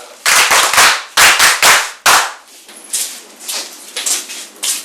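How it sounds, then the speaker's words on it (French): Group of people clapping at a school in Benin: three quick bursts of sharp, rhythmic claps close by, followed by softer, scattered clapping and faint background noise. "vous applaudissez bien les leçons?"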